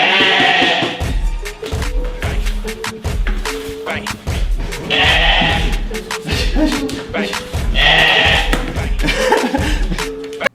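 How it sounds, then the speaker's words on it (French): Sheep bleat repeatedly in loud, close, wavering cries, three main bursts spaced a few seconds apart over a rhythmic thumping backing track. "après le poulet, c'est le mouton"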